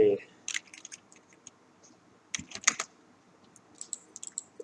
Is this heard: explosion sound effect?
no